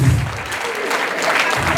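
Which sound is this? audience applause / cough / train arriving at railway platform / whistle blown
audience applause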